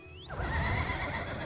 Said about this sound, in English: This is my beautiful steed